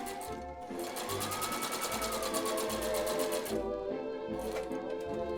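A sewing machine runs gathering stitches along the waistline of a dress bodice, a close, fast, steady mechanical whir that slows briefly and then resumes.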